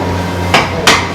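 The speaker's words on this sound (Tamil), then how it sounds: "கரண்டி வச்சு கிண்டல, கரண்டி கைப்பிடி வச்சு கிண்டுறாரு" Ladle handle stirring chicken biryani in a large pot, giving two sharp, close knocks about a third of a second apart over a steady low hum.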